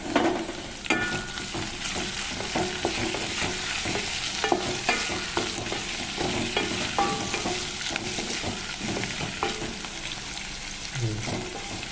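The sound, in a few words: ivy gourd (dondakaya) frying and being stirred in pan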